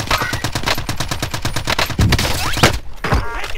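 Video game gunfire in Call of Duty: Warzone: rapid automatic bursts rattle loudly and continuously, with a few heavier impacts near the end, all close and dense.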